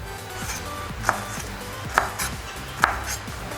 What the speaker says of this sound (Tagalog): Hiwain lang natin siya ng pahaba na manipis